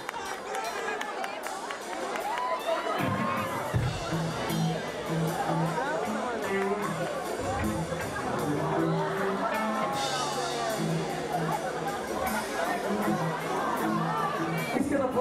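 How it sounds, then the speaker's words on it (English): A live concert crowd at a Crashdïet show cheers and shouts, a busy roar of voices and whoops under music and a speaking voice, continuous throughout. "So give an applause for Mr."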